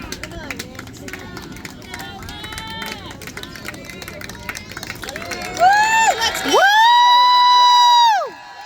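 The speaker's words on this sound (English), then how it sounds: "Next time he goes up, cheer for him." A crowd whoops and cheers for a competitor at a mule jump competition in West Plains. Shrill, rising shouts swell near the end over a steady hubbub of voices and chatter.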